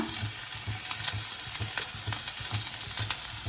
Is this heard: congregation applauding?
no